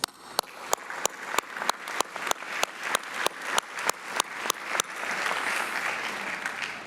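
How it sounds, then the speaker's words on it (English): An audience at a Morehouse College Scholars Day forum applauds, opening with a series of sharp, evenly spaced claps that swell into fuller, sustained clapping from many hands. "So let's applaud the acknowledgement of these students."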